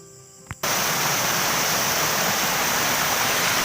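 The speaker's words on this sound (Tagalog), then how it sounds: "mayroong dalawang bahagi kung saan umaagos yung tubig" Steady, loud rush of falling water begins after a brief quiet moment and a small click, continuing as a broad, unbroken roar.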